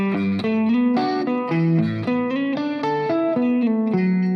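A distorted electric guitar plays a choppy, repeating riff of chords and notes, loud and close, with a driving rhythm and effects coloring the tone.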